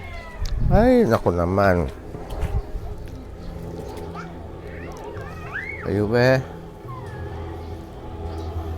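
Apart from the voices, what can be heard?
cats meowing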